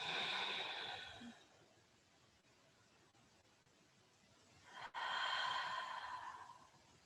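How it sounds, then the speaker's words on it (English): Slow, deep breaths during a yoga hold in a hatha flow class: a long, airy exhale at the start, a quiet pause, then another full breath rising near the end, close and soft with no speech. "3 big breaths."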